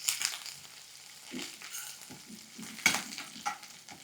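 Curry leaves and coriander fry in hot oil in a pan with a soft, faint sizzle. Irregular crackles and stirring scrapes come through, with a sharper pop near the end.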